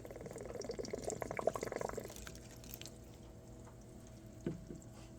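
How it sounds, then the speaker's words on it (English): Water drains out through a hose from an AeroGarden hydroponic grow system, splashing and trickling for about two seconds before dropping to faint dribbles, with a small splash near the end. "let me just hold this hose up and make sure water is coming out"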